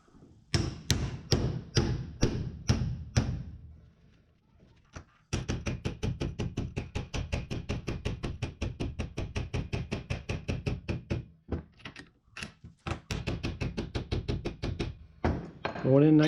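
Steady hammer blows drive a spacer onto a John Deere GX75 mower deck spindle shaft through a small chrome socket, starting as a few spaced strikes, then a long rapid run of sharp metallic taps, close and loud.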